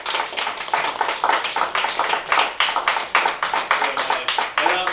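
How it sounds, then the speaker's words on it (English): Live audience at the Avenue Cafe clapping for a musician on a talk show; a steady, dense round of hand claps, close and fairly loud, continuing without talk. "Let's have a round of applause for his relative"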